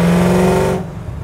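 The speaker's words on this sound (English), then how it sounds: "this exhaust sounds great when you downshift" Supercharged LS3 V8 in a 1969 Chevrolet Camaro RS/SS restomod, its exhaust burbling loudly and steadily on a downshift before the engine note drops away abruptly near the end.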